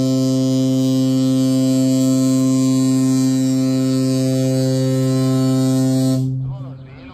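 A ship's horn sounds loud and sustained at departure from Xinxia, China, one deep continuous blast holding steady for about six seconds before cutting off and fading.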